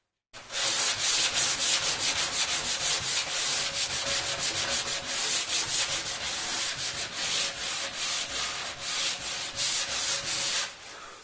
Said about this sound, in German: dass wir hier nicht mit dem Schleifpapier in diese Richtung über die Oberfläche von der Spielfläche kommen